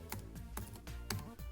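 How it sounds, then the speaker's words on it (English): Quick, light clicking of butterfly-switch keys on a 2016 MacBook Pro, typed in an irregular rhythm, close and crisp, each press a short shallow tap. "The butterfly keyboard is neat."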